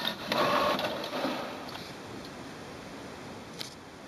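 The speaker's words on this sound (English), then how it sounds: "It is doing a calibration of the printer." An HP Envy Photo 7800-series all-in-one printer runs its calibration with plain paper loaded, giving a close mechanical whir and rattling feed, loudest at the start, then a steady hum with a brief clack near the end.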